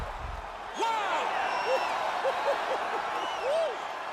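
Crowd cheering in the EA Sports UFC 4 video game after a knockout ends a kickboxing fight: a steady arena roar with whistles and shouts, under a commentator's talk.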